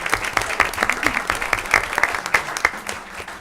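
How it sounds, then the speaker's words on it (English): Audience applause fills a school board meeting room, a dense run of clapping from many hands, steady and fairly close for a few seconds with light crowd murmur beneath. "I want to give them another round of applause"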